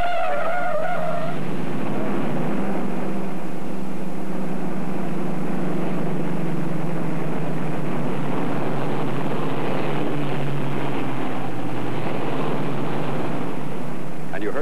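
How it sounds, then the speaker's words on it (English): A 1950s Chevrolet with an overgeared transmission climbs a steep grade from a standing start, its tires squealing over a loud, steady engine roar while a narrator talks over it. "Tire squeal?"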